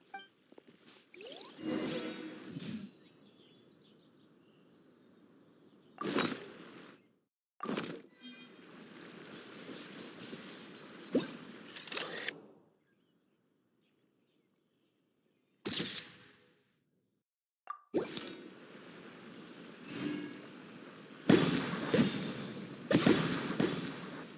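Fireworks in Genshin Impact, several sharp bursts and whooshing crackles going off in separate clusters with quiet gaps between, ending in a dense flurry of pops.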